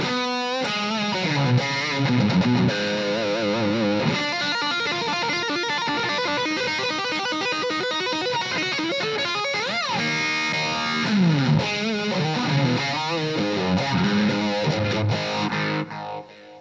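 Distorted electric guitar played through a Plexi amp run on a Variac for a brown sound, loud and continuous with sustained notes, bends and fast runs, no talking over it.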